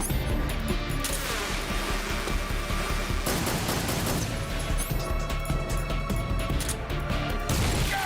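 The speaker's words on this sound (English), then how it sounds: "Grenade!" Grenade blasts and chaotic combat noise in the stealth video game Metal Gear Solid 3, dense and continuous with crashing bursts throughout, a heavier impact near three seconds and more around five and seven.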